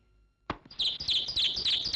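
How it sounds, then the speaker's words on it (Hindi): A bird at its nest makes a sudden sharp burst, then keeps up repeated bright chirps and fluttering sounds, close and fairly loud, with no talking. "ये एक ही चिड़िया जिसने आकर अपना घोंसला बनाकर रखा हुआ है, इसलिए पर मार रही है सर।"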